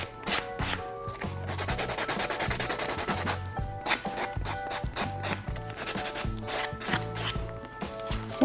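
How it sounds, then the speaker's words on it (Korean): A salon nail extension is sanded with a nail file in quick, rhythmic rasping strokes, close to the microphone and fairly quiet, with short pauses between bursts and no talking. "그 다음에는 저는 샌딩 작업을 이렇게 진행해 주세요."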